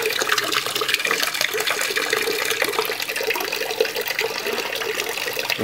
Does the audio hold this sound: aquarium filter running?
yes